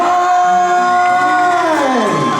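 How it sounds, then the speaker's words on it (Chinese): A loud crowd at a Taiwanese singer's outdoor concert in Luzhu screams and cheers in a sustained roar, shrill voices holding high notes before the noise tapers off. "尖叫声！"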